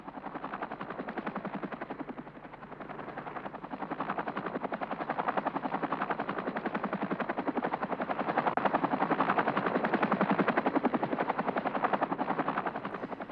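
An AH-64 Apache attack helicopter fires its Hughes 30 mm chain gun: a steady, dense rattle of rapid shots merged with the rotor's drone, loud and continuous throughout with no talk.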